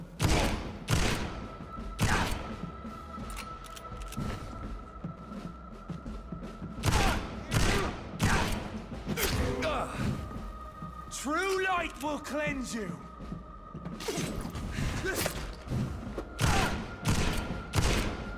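Gunfire in the video game Vampyr comes as a series of sharp, loud shots and thuds spread through the scene, mixed with game music, effects and in-game character speech.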